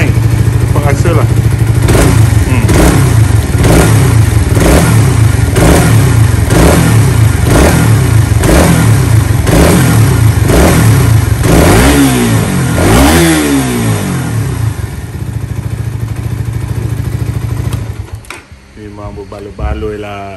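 A Suzuki Raider FI motorcycle engine fitted with a GSX-R150 injector revs hard again and again close by, each blip climbing quickly from low RPM. It then settles and cuts away near the end.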